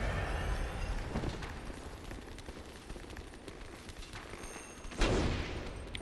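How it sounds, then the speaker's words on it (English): Enemies fire guns at the player in Bloodborne, a dense fusillade of shots rattling through the clip with a louder burst near the end, no voices over it. "Oh, they're all shooting at me."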